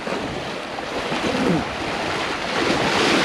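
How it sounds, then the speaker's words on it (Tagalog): Waves rolling in from two sides meet and wash over the Palad sandbar in Marinduque, giving a steady close surf wash mixed with wind rumble on the microphone, with no voices. "yung alo nagsasalubong"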